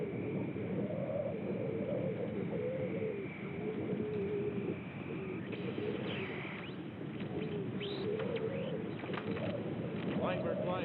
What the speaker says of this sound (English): Flying bird, flying bird. Talk to me, flying bird.